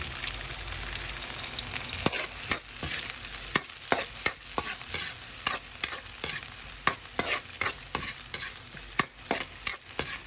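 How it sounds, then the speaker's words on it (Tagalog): Onion and corn sautéing in a pan, a loud close sizzle running throughout with frequent sharp scraping clicks of a spatula stirring in an irregular rhythm, with no talking. "sabay na natin to sa paggisa yung ating corn"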